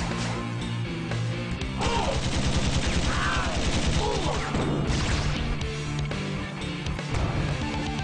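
Rapid bursts of gunfire and impacts from the side-scrolling action game Iji, loud and dense over game music and effects.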